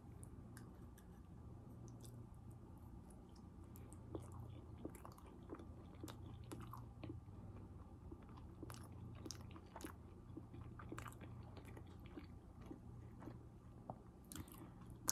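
Close, quiet chewing and biting of pizza with a slightly spicy sauce, soft wet squishes and small crunches repeating irregularly over a low steady background.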